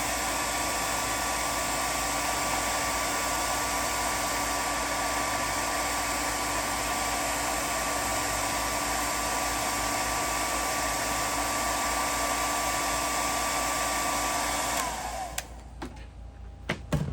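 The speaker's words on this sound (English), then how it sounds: "there's going to be a hairdryer running in a second" A hair dryer blows loudly and steadily for about fifteen seconds on a tungsten EDC spinner toy to spin it dry after a bearing swap, then cuts off, leaving a few faint knocks and quiet room noise.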